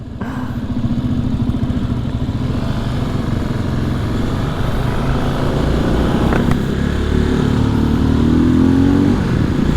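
Halcyon 450 motorcycle being ridden, a close, steady single-cylinder engine thrum with a rising rev toward the end, loud and continuous without talking.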